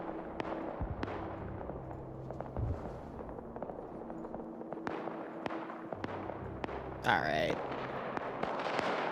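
Light machine gun firing in a military shooter game, sharp cracks and scattered distant shots popping at irregular intervals under a low vehicle-like drone, with a brief voice and one louder whooshing burst near the end.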